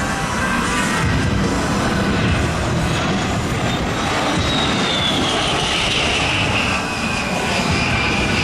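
A military jet performing an airshow maneuver roars loudly and continuously overhead, its engine tone shifting slowly as it sweeps across the sky.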